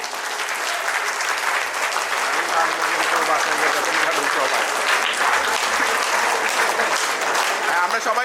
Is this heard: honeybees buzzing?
no